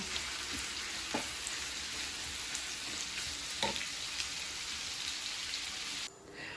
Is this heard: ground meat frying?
yes